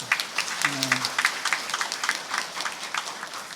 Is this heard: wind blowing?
no